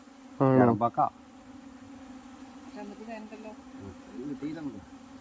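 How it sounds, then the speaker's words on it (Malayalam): A honey bee swarm stirred up after its hive was disturbed makes a steady, low, droning buzz. A brief voice cuts in near the start, then the hum carries on alone at a moderate distance. "പപ്പ ദേ തേനീച്ച കൂടെ ഇളക്കി സെറ്റൊക്കെ ആക്കിയിട്ടുണ്ട്"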